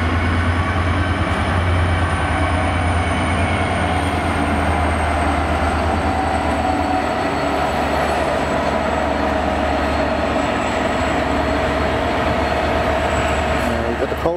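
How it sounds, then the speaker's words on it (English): A freight train hauling coal wagons rolls through Cardiff Central station, a steady loud rumble and wheel roar lasting throughout, with faint voices of people on the platform underneath. "You've got the coal wagons on today."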